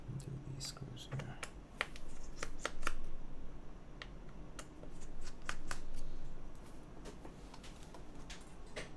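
Screws being driven into a mechanical keyboard during a TKL build, heard as scattered light clicks and ticks with soft rattling at close range, with no talk over them.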